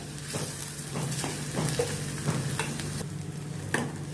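Onions for dhaba-style dal palak frying with a soft, steady sizzle in a pan, with repeated light scrapes and taps of a spoon stirring, fairly quiet and close.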